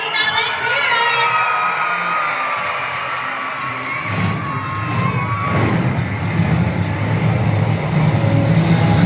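An arena crowd of children at a Hot Wheels monster truck show cheers and shouts loudly and steadily, with the roar swelling after a few seconds and a low rumble running beneath it.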